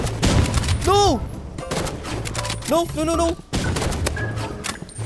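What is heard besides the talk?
sniper rifle gunfire in Roblox Rivals video game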